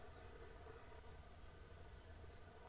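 A long train brakes in the Train Simulator 2014 video game, giving a faint, steady rumble of rolling wagons with a thin, high wheel squeal held throughout.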